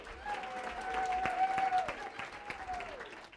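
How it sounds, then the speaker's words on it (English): A live audience at an awards event applauds to welcome a volunteer on stage, steady clapping filling the room for a few seconds alongside a sustained tone and crowd murmur. "everyone give her a big welcome, big round of applause"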